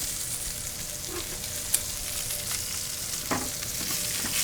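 Steak searing in a hot pan gives a steady, broadband sizzle and crackle that runs the whole time, with a few sharper spits and pops rising above it. No voices are heard.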